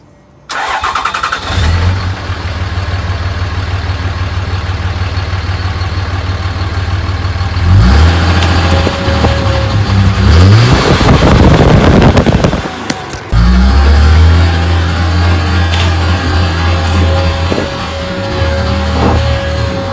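Cummins diesel truck idling with a low rumble, then revving hard as a full Mountain Dew can is stuffed in the exhaust pipe, loud roaring bursts and a sudden blast around the middle before settling back to a steady idle.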